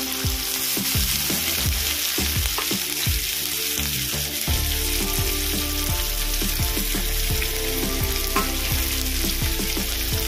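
Chopped onion frying in oil with whole cumin and other whole spices for a chicken and potato curry, a continuous close sizzle with frequent spatula scrapes and clinks throughout.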